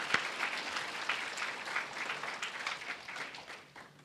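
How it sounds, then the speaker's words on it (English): An audience at a Tarrant County College graduation ceremony gives sustained applause, heard as a continuous moderate-level clapping wash in a large hall that tapers slightly at the end. "Please join me in giving them a round of applause"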